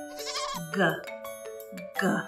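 Goat bleats come in a series of wavering, nasal cries, moderately close, alongside a voice briefly speaking between them.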